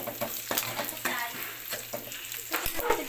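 Onions sizzle in hot pork oil for a pork adobo with papaya, a close crackling fry broken by repeated scraping and stirring clatter in the pan.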